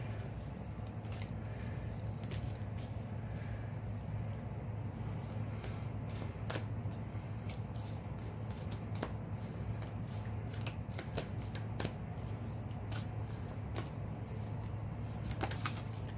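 A deck of oracle cards being shuffled by hand, a steady close riffling patter with crisp repeated snaps of card edges running throughout, no voices.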